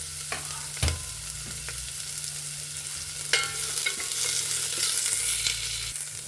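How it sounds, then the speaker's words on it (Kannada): A spoonful of oil with onion frying in a pan, giving a steady soft sizzle with a few sharp clicks of stirring, close and alone without talk. "ಫಸ್ಟ್ಗೆ 1 ಸ್ಪೂನಷ್ಟು ಆಯಿಲ್ ಹಾಕ್ಕೋತಿದ್ದೀನಿ. ಓಕೆ, 1 ಗೆಡ್ಡೆ ಈರುಳ್ಳಿ,"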